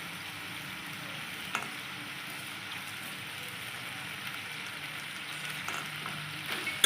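Mixed vegetables and bori (sun-dried lentil dumplings) fry in a pan for a neem-leaf dish, giving a steady close sizzle with faint stirring scrapes and a few small clinks, no voices.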